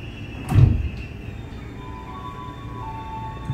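Sliding doors of a commuter train at Bekasi station open with one loud close whoosh and thump, followed by a faint ringing electronic tone over quiet platform ambience.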